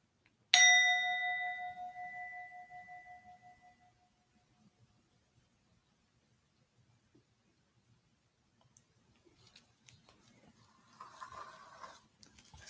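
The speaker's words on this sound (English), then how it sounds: "And at the sound of the bell," A meditation bell is struck once during a morning sit, ringing out clearly and fading slowly over several seconds into near silence, with faint rustling afterward.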